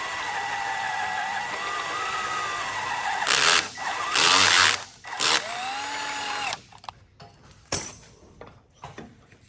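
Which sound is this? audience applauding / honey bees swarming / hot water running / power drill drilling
power drill drilling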